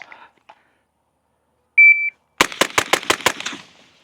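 A shot timer beeps once, then a SIG MCX Spear LT rifle fires a quick burst of about six rapid, evenly spaced shots, close and sharp, ending in a short fading tail.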